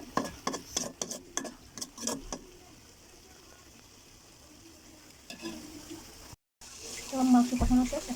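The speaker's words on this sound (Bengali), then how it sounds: "আর মশলা একটু কষাবো।" Spices are stirred and sautéed in a pan for a chicken dish. A spoon scrapes and clatters in quick bursts over a soft, steady sizzle, then the pan goes quieter before a louder stretch of frying.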